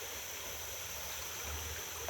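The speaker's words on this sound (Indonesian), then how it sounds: "Inilah penampakan sungai ini, sangat masih jernih." Clear river flowing behind a house in Borneo, a steady broadband rush of running water that stays even and close throughout, with no voices over it.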